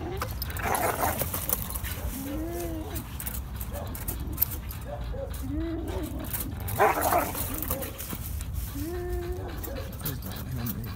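A dog tugs and strains on a spring pole, giving repeated whimpering yips and growly vocal bursts against steady background noise and faint talk nearby.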